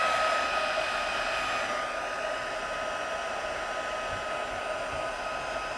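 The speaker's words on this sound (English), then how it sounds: "let's grab our heat tool. I'm going to emboss these guys." A handheld heat tool blows a steady, even whir, like a small hair dryer, while heating white embossing powder on a paper craft box, with a faint hum running throughout.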